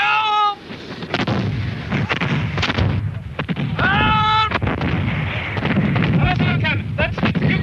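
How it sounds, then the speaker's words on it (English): Booming 18th-century cannon fire at a reenactment of the Battle of Culloden, several loud blasts echoing across open ground among shouted commands and voices nearby. "That's Cumberland's cannon."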